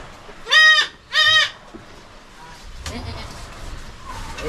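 Two loud, close goat bleats sound in quick succession on a farm, followed by quieter rustling and background farm noise.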